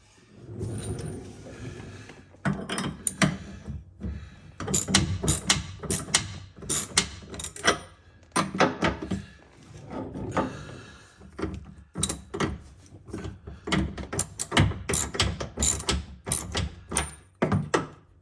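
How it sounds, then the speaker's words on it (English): Hand tightening of fittings on a plastic Sprinter van holding tank with a socket, giving many short clicks, knocks and rattles in irregular bursts, close and moderately loud, with brief gaps between. "I'm going to hand tighten them with a socket so I don't do something stupid."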